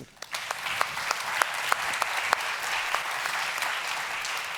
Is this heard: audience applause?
yes